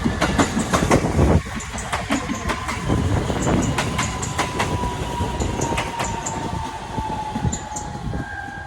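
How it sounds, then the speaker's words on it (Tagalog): An express train rushes past in Japan, a steady loud rumble with rapid metallic clickety-clack of wheels and a faint high squeal running throughout, with no voices. "Sakto, may train."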